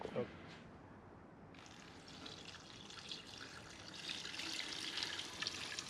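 Water runs steadily from a tap with a hissing rush that grows slightly louder, after a brief sound at the start.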